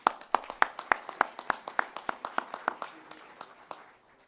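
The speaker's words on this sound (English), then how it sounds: "Please join me in giving that team a round of applause." Applause breaks out at the NASA Headquarters Honor Awards ceremony. Distinct claps land in a quick, uneven rhythm, as from a small group, and fade out after a few seconds.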